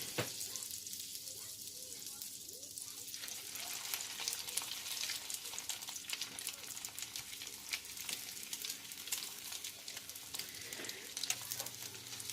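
Salmon patties sizzle steadily in olive oil in a pan, a close, continuous hiss of frying with faint crackles and no talk.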